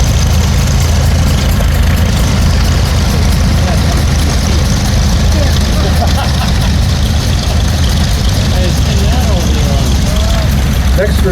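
A vintage 1953 tractor engine runs at a threshermen's show, belted to a load with good steady power, a loud continuous low throb while a voice commentates over it throughout.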